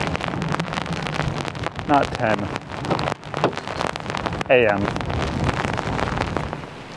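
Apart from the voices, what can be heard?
rain and wind heard from inside a car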